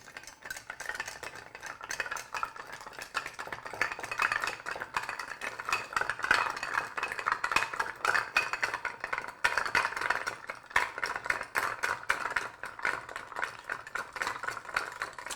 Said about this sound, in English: And then we're going to stir.